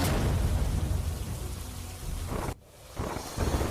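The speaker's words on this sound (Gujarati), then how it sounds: "સુરેન્દ્રનગરના ચોટીલામાં ધોધમાર વરસાદ, આસપાસના વિસ્તારમાં વરસાદી માહોલ" Heavy monsoon downpour in Chotila, Surendranagar, Gujarat, with thunder: a loud, steady roar of rain that drops away briefly near the end, then returns.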